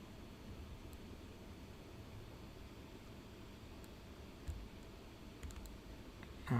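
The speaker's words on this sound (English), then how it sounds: "Okay, I was clicking in the wrong place." A computer mouse clicks a few sparse times, faint against steady background hiss, with no talking.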